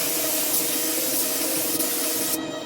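A spray gun lays a second coat of epoxy primer on a Bajaj motorcycle gas tank in a steady, close, loud hiss that runs unbroken and drops off sharply at the end.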